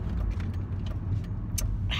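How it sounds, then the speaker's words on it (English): Car passing by on a road, engine rumble steady and fairly close for about two seconds, with a brief hiss near the end; no talk. "it's such a cool car right there"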